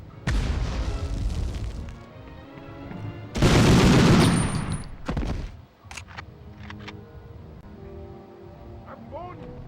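Gunfire and a loud grenade blast from the Medal of Honor video game, with shots early on, a big roaring explosion in the middle, then scattered shots and crackle, and voices talking throughout.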